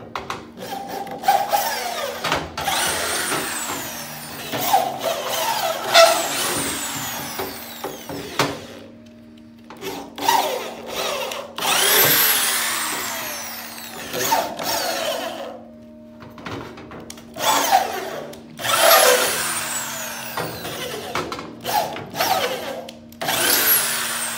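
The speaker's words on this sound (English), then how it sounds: "So I'm now going to take my tap and I'm going to go in there square." A drill drives a tap to thread a hole in aluminum for boat building, producing several bursts of whirring and grinding separated by pauses, close and moderately loud, without speech.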